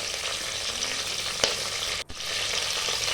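Curry leaves tossed into hot oil while tempering for pongal, a dense continuous sizzle with a sharp stirring clack and a brief dip in the hiss, close and steady, no voices.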